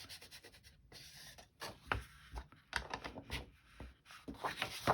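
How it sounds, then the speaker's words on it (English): A pen or marker inks along the fold of a paper file folder, giving short scratchy rubbing strokes that come in bursts with brief pauses, close and fairly quiet. "I might do a little inking right on this fold in case it shows"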